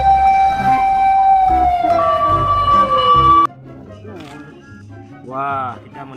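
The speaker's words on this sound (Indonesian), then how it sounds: "Ini mobil pemadam kebakaran." An electronic fire engine siren holds steady, then sweeps downward before cutting off abruptly after about three and a half seconds; a voice speaks briefly in the quieter stretch that follows.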